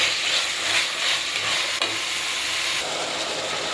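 Cleaned vegetables for a vegetable pulao go into a hot, oiled pan and are mixed, giving a continuous close sizzle with rhythmic scraping and stirring and one brief knock of a spoon partway through.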